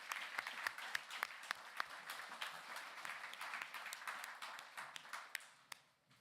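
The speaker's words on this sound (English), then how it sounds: "Let's give the Arts Council a round of applause as well." Audience applause at a comic arts festival, a steady round of clapping from a crowd in a hall that keeps going for several seconds, then thins and fades out.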